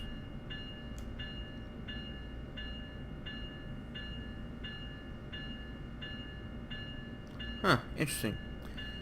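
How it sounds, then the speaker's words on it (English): A freight train rumbles steadily past in Train Sim World 2020, with a repeating clatter and a horn blast near the end, while someone speaks briefly over it. "Maybe it was a 92Q, an all flat train."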